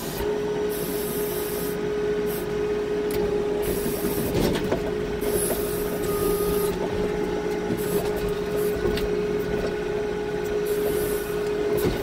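An Avant 860i loader works a grapple bucket moving logs, its engine and hydraulics droning steadily at close range with faint rubbing and knocking of wood, and no speech.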